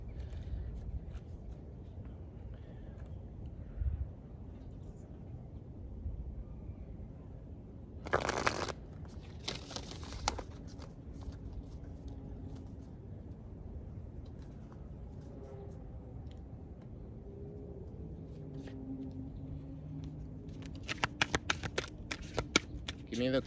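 Angel message cards being shuffled for a reading, quiet rapid riffling bursts and soft card flicks scattered through a calm room, with occasional soft speech.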